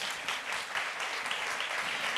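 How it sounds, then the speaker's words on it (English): Audience applause as a panelist is introduced on stage at a conference panel, a brief, even wash of many clapping hands at moderate loudness. "A little clap, perhaps."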